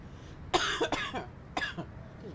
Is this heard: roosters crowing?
no